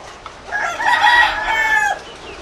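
A backyard rooster crows once, loud and close, in a single drawn-out call lasting about a second and a half over a quiet farmyard background.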